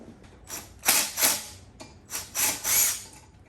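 Wrench working an 8mm bolt loose on the side of a 450 dirt bike exhaust, heard as several short bursts of metallic clicking and scraping with brief pauses between them, close up and moderately loud.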